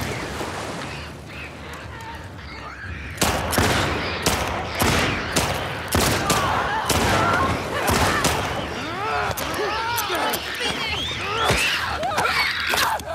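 Gunfire in the video game The Last of Us Part 2, with dense repeated shots and rapid bursts cracking over a tense background, mixed with excited shouting from players.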